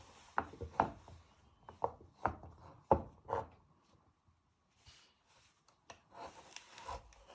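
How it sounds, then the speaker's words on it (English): A knife cuts through a peeled carrot on a board in a few sharp, close chopping strikes with short pauses between them, with no talking. "So after when you have peeled your carrot, you first chop it in half."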